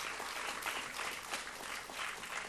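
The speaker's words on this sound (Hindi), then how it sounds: "एक बार तालियों से स्वागत करें।" An audience applauds to welcome a director onto the stage at a Swachhata Hi Seva cleanliness event on 2 October 2023, a continuous, even wash of many hands clapping, moderately faint and heard alone.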